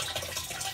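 Water pours through an inlet pipe into a Fiamma 70-litre tank in a self-built Fiat Ducato camper van, a steady close hiss and splash of filling with no break.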